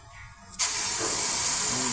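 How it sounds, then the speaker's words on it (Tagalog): After a brief quiet rattle, a strong hiss bursts in as 141B solvent is flushed through an air conditioner compressor system during a home repair, then holds as a loud, steady high spray. "sinasalinan po niya ng 141B for flushing"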